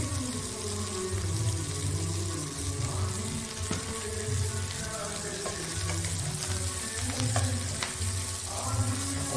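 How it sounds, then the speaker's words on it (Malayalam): Garlic stir-fried in a pan for a dry chilli chicken liver dish, heard as a steady sizzle under scattered scraping and clinking from the stirring utensil. "ആ വെളുത്തുള്ളി ഒരു രണ്ട് മൂന്ന് സെക്കൻഡ് ഇളക്കിയാൽ മതി"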